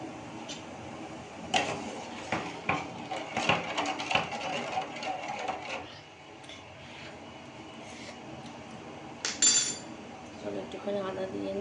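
Kitchen utensils clinking while tea is made and ginger is added, light taps and scrapes of metal against pots and cups at close range, scattered and irregular with a short pause midway.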